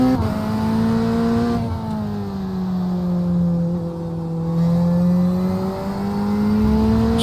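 GT3 racing engines in the iRacing video game at Fuji, including McLarens, whine and drone continuously, pitch rising and falling as the cars accelerate and ease off, one engine note dominating over a steady hum.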